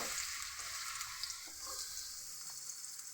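Chopped onions hit hot oil in a pan on a gas stove while egg bhurji is being made, giving a bright, continuous hissing sizzle that stays loud and steady throughout.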